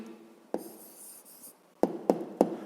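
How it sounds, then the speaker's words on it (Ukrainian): A pen writing an answer by hand on paper, with soft scratching strokes and a few sharp taps as numbers are written, close and alone. "Пишемо відповідь."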